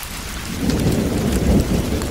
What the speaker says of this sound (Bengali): এবং সাথে সাথে প্রচণ্ড বৃষ্টি শুরু হলো।